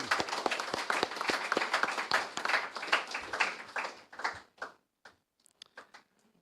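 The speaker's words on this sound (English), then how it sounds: "We deserve a big round of applause for today" An audience applauds at a law day debate event, a dense burst of clapping that thins out into a few scattered final claps and fades to silence.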